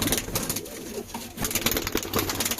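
A pigeon coos in bursts while being handled, close and uneven, with rustling and handling noise between calls.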